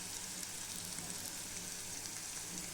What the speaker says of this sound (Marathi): ते कांदा परतल्यानंतर ते तिखट टाकून फ्राय करून घ्यायचं